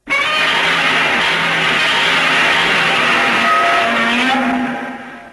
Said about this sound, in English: As the car started up, I drove out of the driveway.